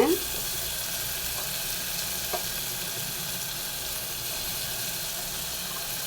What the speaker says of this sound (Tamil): இஞ்சி பூண்டு வந்து இந்த ஸ்பூனில் வந்து ரெண்டு ஸ்பூன் போடுறேன் நான்